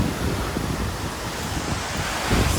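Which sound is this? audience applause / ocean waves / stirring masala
ocean waves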